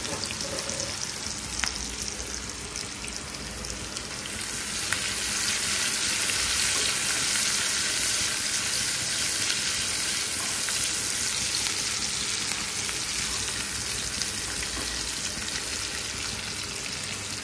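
Onion and garlic fry in a pan, the onion already browned, with a loud continuous sizzle and light stirring scrapes throughout, steady from start to finish with no voices.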